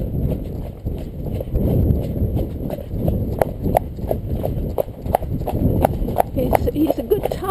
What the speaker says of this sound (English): So it's just a long trot now.